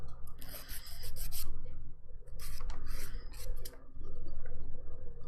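An orange 180-grit buffer block rubs back and forth across fingernails during a dip powder manicure, in bursts of close, scratchy rasping strokes separated by brief pauses.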